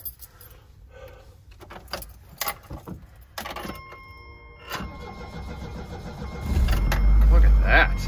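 A 34-year-old car engine that had been sitting idle cranks and catches, rising into a loud, steady idle after some rattling and handling noises and faint talk.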